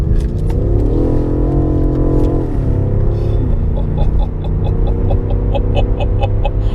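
A powerful 2019 BMW M5 Competition engine roars steadily close by, its pitch rising and dipping as it revs and accelerates, with a deep throbbing hum underneath.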